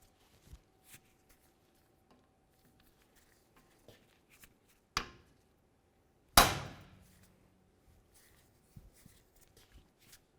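Hammer striking an impact driver on Honda CR-V rotor retaining screws, two sharp metallic blows a second apart amid quiet tool handling and small taps.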